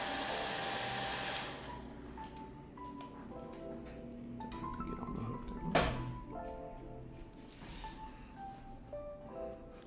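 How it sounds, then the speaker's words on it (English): A hair dryer drying pigments blows steadily for about a second and a half before cutting out, followed by scattered taps and clinks close by. "Now we'll hit it with the hair dryer."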